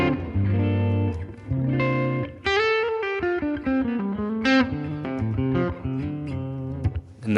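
An electric guitar plays through a modelled Fender Bassman amp on a clean setting, sounding out sustained chords and single notes with clear attack and natural decay, played alone.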